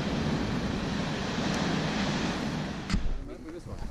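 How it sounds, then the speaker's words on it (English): Ocean waves crash and roll onto a snowy, cold Iceland shore, a loud continuous surf roar mixed with wind buffeting the microphone, with a brief surge near the end. "That's some crazy waves."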